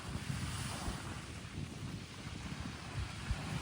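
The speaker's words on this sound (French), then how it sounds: "il y a trop de vent en fait" Strong wind buffets the microphone at the seaside, a loud, continuous roaring rush with gusty low thumps and no voices.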